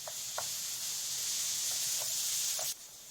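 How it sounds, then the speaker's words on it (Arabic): Chopped garlic and onion sizzle steadily in a hot pan while being stirred, a continuous close hiss with a few soft clicks from the spoon, ending abruptly. "نضيف الثوم ونقلبه مع البصل"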